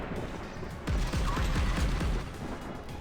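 Naval cannon fire in the Modern Warships video game, Breda Compact twin gun, a roaring burst of booming shots rumbling for about a second over steady background noise, no voices.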